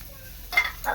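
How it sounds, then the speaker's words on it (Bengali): Koi fish frying in a pan gives off a brief, steady sizzle, with crackling spits of hot oil that grow brighter toward the end. "এই যে কই মাছ ভাজা চলছে"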